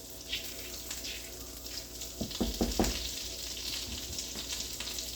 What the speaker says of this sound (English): Add a little bit of this garlic once that melts.